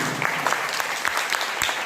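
Dense, steady applause from the audience at a poetry gathering held in a school, many hands clapping continuously at even volume with no talk over it.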